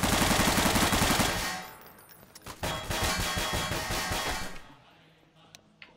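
Sustained rapid gunfire during a video game raid, a dense burst of automatic shots that cuts off, then resumes in a long rattling volley before trailing into a few faint sounds.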